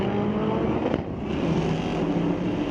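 1968 Ford Torino at a Friday night street-legal drag race at Mission Raceway Park, its engine roaring loudly and continuously down the strip from a distance, a broad steady rumble with no talk.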